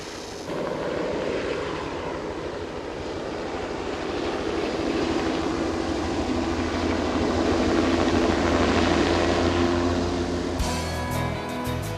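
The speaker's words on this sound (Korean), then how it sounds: "폭염 속 방제팀의 헬기가 다시 날아오른다" A forestry-service pest-control helicopter lifts off to spray pesticide over a chestnut forest in summer heat, its loud, steady rotor and engine roar filling the scene throughout, swelling slightly and holding close.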